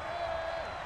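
Crowd noise from a stadium in NCAA Football 22 at a Big 12 Championship game, Oklahoma State vs Baylor, forms a brief, dense roar with a rising cheer and a held whoop.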